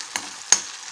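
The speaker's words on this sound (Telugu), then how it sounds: "దీన్ని బాగా తిప్పుతున్నాను." Soya chunks coated in soy and chili sauce are stirred in a pan, two quick scraping strokes over a faint background sizzle, close and fairly quiet, without speech.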